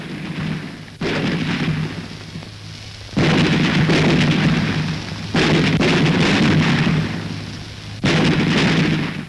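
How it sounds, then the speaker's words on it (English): Royal Indian Navy guns fire in a gunnery display at Bombay War Weapons' Week, with four loud booming bursts, each followed by sustained rumble, spaced about two seconds apart. "their gunnery display a very popular event"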